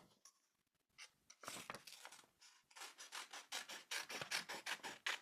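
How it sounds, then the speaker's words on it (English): A half-circle shape is cut out freehand with a series of rasping, rhythmic cutting strokes that start sparse and quiet, then quicken into a steady, close run of scraping strokes, with no talking. "And then we're going to cut it out."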